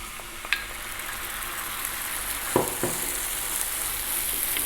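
Baked beans fry in a pan over lowered heat with a steady, close sizzle, while a couple of utensil clatters break through and no one speaks.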